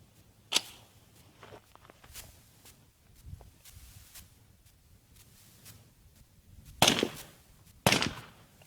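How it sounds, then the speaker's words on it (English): A suppressed 16-inch 300 Blackout rifle fires GEMTECH subsonic ammunition, giving a few soft muffled reports: a faint one early, then two louder sharp cracks close together near the end, over quiet outdoor background. "This is a 16-inch barrel 300 blackout shooting GEMTECH subsonic 300 blackout ammunition."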